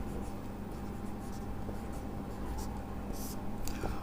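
Pen strokes writing out a chemistry equilibrium solution for N2O4 dissociation in a quiet lecture setting, with soft, close scratching and short taps running continuously, no talking.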